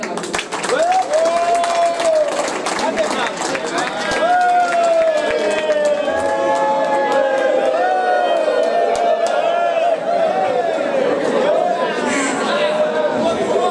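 A crowd at a political meeting in Mauritius applauds and cheers loudly and continuously. Excited chatter and shouts run throughout, and a voice rises over the clapping.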